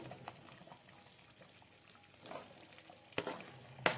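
Eggplant curry simmers in a pan on low heat, a faint soft bubbling with a few louder pops and spatters near the end.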